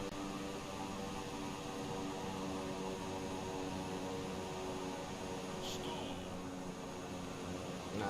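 An airplane engine drones steadily and loudly throughout a landing in a flight video game. The continuous mechanical hum stays even, with a brief brighter hiss near the end.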